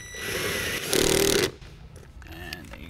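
Power screwdriver driving a screw into a car door panel on a 2007 Acura TL, a short loud whirring burst of about half a second, with softer clatter and handling noises around it.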